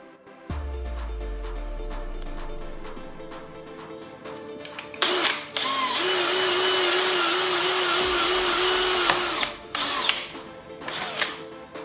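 A power drill bores a wire hole in a homemade studio light fixture: ratcheting clicks, then a loud sustained whining drill run that cuts off, followed by more clicks, close by.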